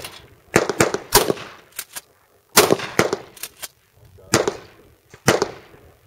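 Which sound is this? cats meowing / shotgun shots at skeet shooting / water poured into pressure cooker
shotgun shots at skeet shooting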